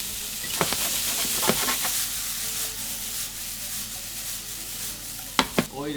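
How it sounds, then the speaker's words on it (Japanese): Autumn eggplant stir-fried in olive oil in a pan gives a steady bright sizzle, broken by a few sharp scrapes and clacks of a utensil against the pan. "あとは炒め合わせ"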